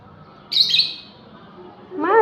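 A visiting migratory bird gives two short, bright chirping calls, the first around half a second in and the second near the end, close and fairly loud over a quiet background.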